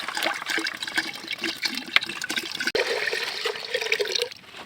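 Rice is washed in water, with steady splashing, sloshing and trickling close by for the whole stretch, alone without talk.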